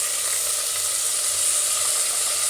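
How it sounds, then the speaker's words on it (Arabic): Onions sautéing in oil in a pot for Tunisian couscous, a steady close hiss and crackle of frying that holds evenly throughout, with no talking. "في نفس الحلة بنفس الزيت هبدأ احط البصل"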